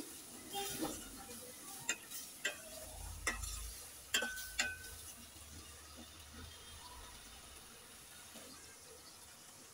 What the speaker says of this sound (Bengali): তো মাছটাকে নেড়ে ছেড়ে সব মশলার সাথে কিছুক্ষণ ভেজে নেব আমি।